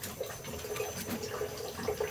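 Water drains from a Bradford White gas water heater tank, steady running water with a soft splashing hiss, continuous and fairly close.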